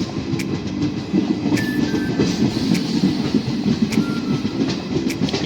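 Riding aboard a DEMU passenger train between Dandeli and Alnavar, a steady loud rumble of wheels on rails carries a continuous rattling clatter, with a few faint squeals.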